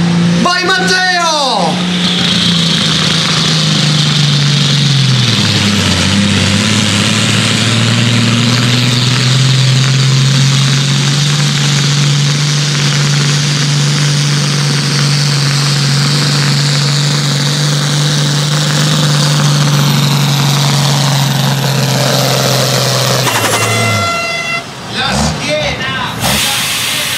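A close, loud tractor engine revs hard at a tractor pulling event, its deep drone dropping and then holding steady for a long stretch before cutting off near the end.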